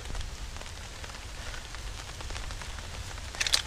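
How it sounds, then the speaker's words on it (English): Steady rain patters across a campsite during a thunderstorm, a dense even hiss throughout with a few sharper nearby drop impacts near the end. "The rain's picking up"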